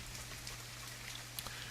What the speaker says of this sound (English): And good God, it won't stop raining, man.